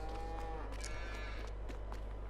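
Cows mooing in Farming Simulator 22 on the Haut-Beyleron map: low, drawn-out moos, fairly faint and distant, over a constant low hum, with no talking.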